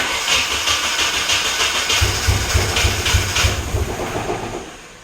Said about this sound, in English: I'm pretty sure it's only running on 3 cylinders.